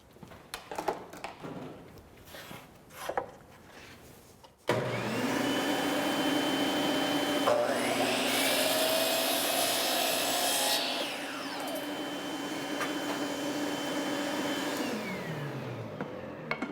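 A power tool cuts a 19-inch horizontal plywood strip for a bulkhead, starting with a few knocks and handling sounds before an abrupt loud whine that holds steady, shifts pitch, then winds down.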